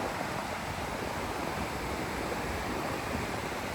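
Ocean surf breaking at Nias, Indonesia, a steady broadband roar of waves washing continuously throughout, fairly loud and close with no voices.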